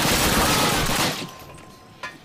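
A dense burst of gunfire in the video game Call of Duty sounds loud and close, then fades quickly, with one more sharp crack near the end.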